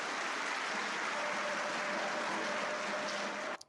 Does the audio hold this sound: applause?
yes